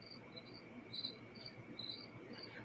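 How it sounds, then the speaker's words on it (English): Crickets chirp loudly at night in a steady, dense chorus, with repeated bright trills pulsing over an even background hum and no voices. "Avery, I don't know what you're calling crickets, but they're super loud tonight."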